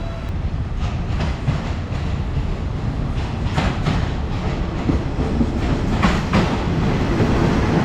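An air-conditioned diesel railcar, train 389, at Hua Lamphong station in Bangkok, with a loud, steady rumble of engine and wheels and faint clacking and squeals over it throughout.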